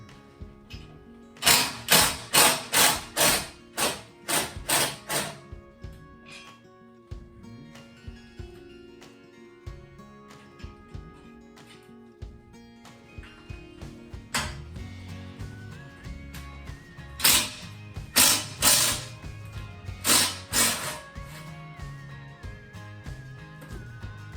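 An impact driver rattles in short, sharp bursts while removing screws from a Sole F80 treadmill during disassembly, with clusters of loud hammering whirs separated by quieter handling clatter and pauses.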